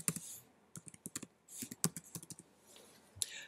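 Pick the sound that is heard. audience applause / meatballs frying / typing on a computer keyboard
typing on a computer keyboard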